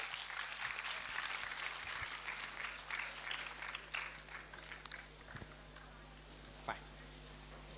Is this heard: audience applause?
yes